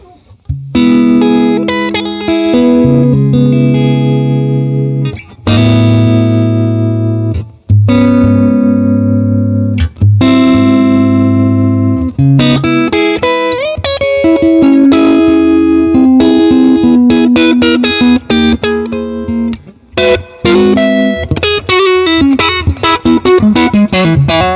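Distorted electric guitar playing loud chords and riffs through a Lazy J 20 tweed tube amp, dry with no reverb, continuous and close, with sustained notes and brief pauses between phrases.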